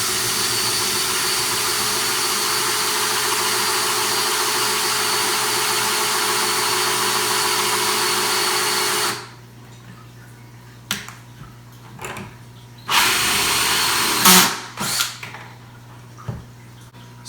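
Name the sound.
power drill drilling a hole for a DIY auto top off system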